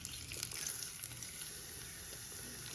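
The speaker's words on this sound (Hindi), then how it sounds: "इसको इस तरह से आप अंदर रख दें कि ये हल्का हल्का फ्राई भी हो जाए" Boiled potato pieces with the peel on, frying in a pan alongside eggs, give a steady soft sizzle and crackle throughout, fairly faint and close, with no talking.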